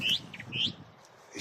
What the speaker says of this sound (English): this is a song thrush at the moment.